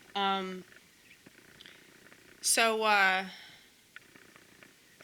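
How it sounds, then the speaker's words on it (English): A cat meows twice, a short cry followed by a longer, drawn-out one, fairly close and loud, with a person briefly talking in between. "Why did you have to meow?"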